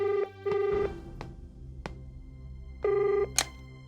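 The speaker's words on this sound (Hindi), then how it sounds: "आपका फोन।" A telephone rings in short electronic bursts, two quick pulses then another after a pause, with a few sharp clicks between.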